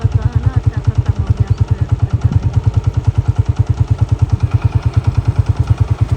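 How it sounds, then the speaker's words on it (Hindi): A motorcycle chugs along a road nearby, its engine pulsing in a steady, rapid, loud rhythm throughout. "ये वाला रोड देखो जहाँ से अभी बाइक आ रही है"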